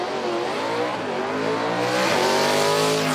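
A 1994 Camaro B Stock drag car launching on the strip at a Hookstown, PA racetrack during IHRA time trials, its engine roaring loudly and continuously with rising revs as it pulls away, with crowd and track noise beneath.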